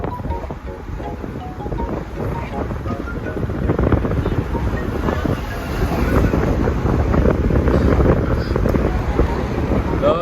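Strong wind buffets the microphone in a steady low roar that grows louder partway through, with faint water or engine noise beneath.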